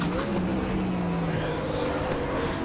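A Mustang GTO race car in Raceroom, an IMSA sim race at Mid Ohio, drones steadily at full throttle, its engine note held loud and close, rising slightly with no talking over it.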